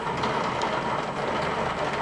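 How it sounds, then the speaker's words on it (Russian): A heavy morning downpour soaks a garden plot, a dense, steady hiss of rain that stays loud and even throughout, with no voices. "прям ливень хороший идет."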